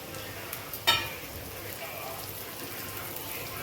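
Broccoli with capsicum and green chilli pieces frying in a pan over onions, giving a steady, soft sizzle with one brief clatter of stirring near the start.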